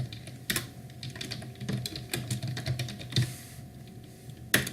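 Computer keyboard keys clack while Python code is typed, an irregular run of close, crisp keystrokes with a few louder taps and brief pauses.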